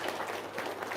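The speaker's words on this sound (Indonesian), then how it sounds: "Wow, tepuk tangan dong." An audience claps and applauds, a dense burst of many hands clapping together at close range for a short moment, with no voices standing out.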